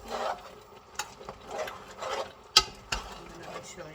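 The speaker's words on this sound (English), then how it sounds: "Stir it very well. Make sure the oil go into the soup nicely." A spoon stirs oily Liberian torborgee soup in a pot, giving a few irregular scrapes and knocks against the pot with quiet bubbling between them, up close.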